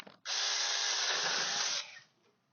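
A Saker mini chainsaw cuts through a small tree limb during fall farm pruning: a sudden loud, steady high whine for about a second and a half, then it winds down.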